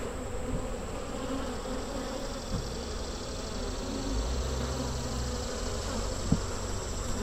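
Honey bees buzzing during a late August hive inspection, a steady close swarm drone with a few brief knocks and bumps, continuous and moderately loud with no talking.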